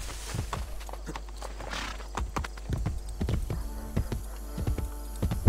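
Horse hooves clip-clopping in a steady rhythm while riding in Assassin's Creed Brotherhood, with a brief whinny amid the game's background sounds.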